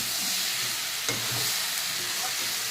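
Potatoes with a little flat bean (shim) frying in a pan that was briefly covered to soften them, now stirred, giving a steady close sizzle with scraping spatula strokes and no voices.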